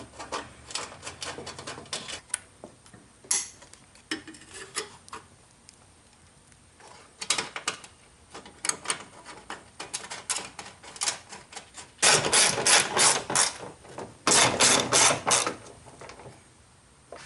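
Ratchet tightening a 12mm bolt while installing the horns during a radiator replacement on a 2002 Toyota Camry, heard as rapid pawl clicking in repeated runs, close, with two louder dense bursts near the end and no talking.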